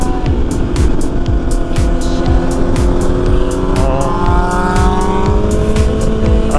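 A car passes close on a city street, its engine droning loudly with a steadily rising whine and faint rhythmic ticking.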